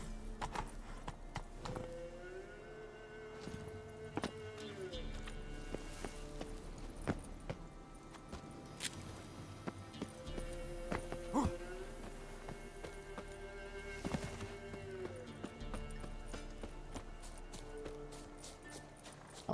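Roach the horse galloping in The Witcher 3, a steady run of hoofbeats at close range under game music and ambience, with no talking.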